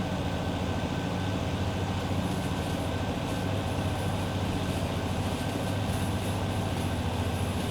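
An extra long freight train rumbles along in the Derail Valley train simulator, a continuous loud, dense mechanical roar with a steady clattering texture and no gaps.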